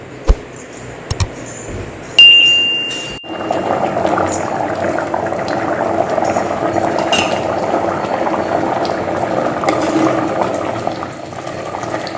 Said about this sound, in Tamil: தேங்காய் கொதிச்சிருச்சு.